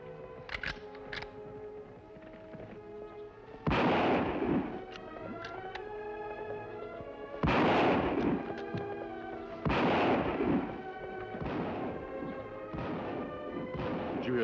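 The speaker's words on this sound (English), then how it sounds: "Shots come from that direction, Kimasabi." Gunshots ring out in an old western radio drama, several loud sharp cracks spaced a few seconds apart, each with a rolling echo, over a continuous music score with no talk.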